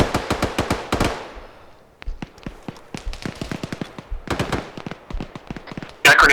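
Rapid bursts of gunfire and explosions from an ArmA 3 combat game, dense cracking volleys rolling through most of the stretch with a short lull, then a louder burst at the end.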